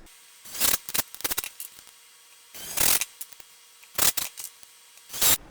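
A power drill pre-drills holes for 2.5 inch construction screws in wood joists for a basement pull-up bar, giving several short bursts of whirring and grinding separated by quiet pauses.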